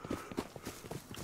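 Horse hooves clip-clop in a video game, a quick irregular run of soft thuds, faint and close together.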